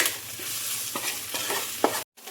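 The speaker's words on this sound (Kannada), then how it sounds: "ಇದನ್ನು ಹಾಗೆ ಸ್ವಲ್ಪ ಫ್ರೈ ಮಾಡ್ಕೊಳ್ಬೇಕು" Finely chopped green chilies frying in a pan for dhaba-style egg masala, a close, steady sizzle broken by several scraping stirs of a spatula, cutting off abruptly near the end and resuming briefly.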